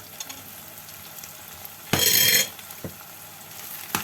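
Chopped garlic and curry leaves drop into hot oil in a pan, giving a sudden half-second burst of sizzling, then faint frying crackle with a couple of stirring clicks.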